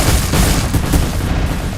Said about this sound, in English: This is a mouse cursor controlled 100 auto cannon.